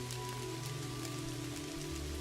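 Rain falls steadily in the video game Kathy Rain, a continuous, soft hiss over low ambient hum, with no voices.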